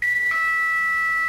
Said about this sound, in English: rather loud Kone chime.